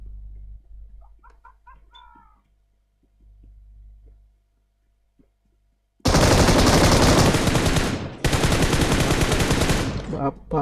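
Bursts of rapid automatic gunfire in PUBG Mobile, two loud sustained volleys separated by a brief gap, following quieter game sounds and faint voices.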